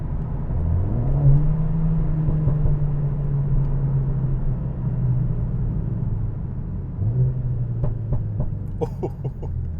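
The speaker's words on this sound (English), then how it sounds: "let's pop it into race mode as we come here, so you can listen to the downshifts" A Mercedes-AMG CLA45 with an aftermarket exhaust drones steadily from inside the cabin in race mode, then drops pitch on downshifts, followed by a series of sharp exhaust pops and crackles near the end.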